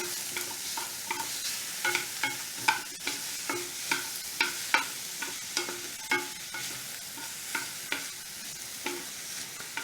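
Onions fry in a pan over medium heat, soft sizzling beneath a regular series of sharp scraping stirs, about one every half second, close and fairly quiet.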